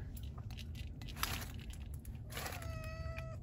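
A cat gives a single short meow near the end, fairly close and soft, after some faint rustling and crinkling.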